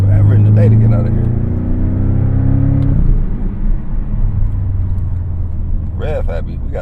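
Engine of a base-model Porsche 718 Cayman revving loudly and steadily with rising whine, then settling into a lower rumbling drone while the car drives; a voice talks over it.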